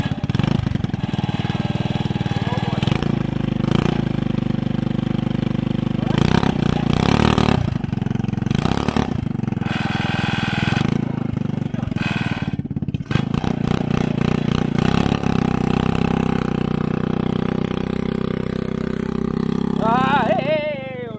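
A small engine on a cheap $100 go-kart runs steadily up close, with a loud rattling, mower-like drone and uneven bursts of revving, while people talk over it.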